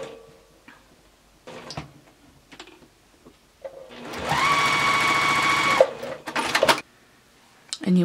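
Sewing machine stitching quilt block pieces together, a short steady mechanical whir of about two seconds between quiet handling clicks and taps of fabric and machine.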